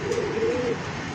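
Pigeons of the Muslodom breed coo in a short, close, clear burst that fades out, with no talking.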